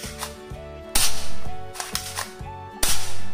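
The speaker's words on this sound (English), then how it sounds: "And the next one is also a gun" A toy gun being fired, close, bright mechanical clacks and rattling bursts at irregular intervals, with a sharp crack near the start and another near the end, no voices.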